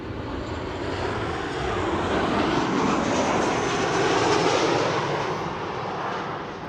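Boeing 737-800 arriving from Milan at Amsterdam Schiphol Airport, its engines a steady broad roar that swells slightly mid-pass and holds loud and close throughout, with no voices over it.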